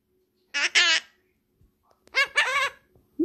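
Two quick bursts of chattering bird calls, close and bright, separated by a short silence.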